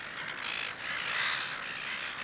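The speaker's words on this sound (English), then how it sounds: "It's also home for a large colony of silver gulls." A large colony of silver gulls on an island calls continuously, a dense wash of squawks and cries at moderate distance with no single bird standing out.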